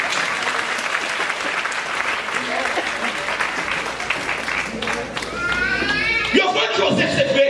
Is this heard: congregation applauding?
yes